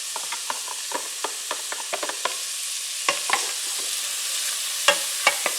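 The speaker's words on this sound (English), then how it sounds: "And to that melted butter, I'm going to add my chopped vegetables." Chopped onion, carrot and celery sauté in melted butter, a soft sizzle under a run of sharp spoon clicks and scrapes against the pot, irregular and close.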